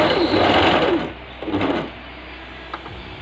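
A Brother portable coverstitch sewing machine stitching a three-needle, five-thread top coverstitch, a loud close whirring run that stops, then a shorter burst and quiet handling.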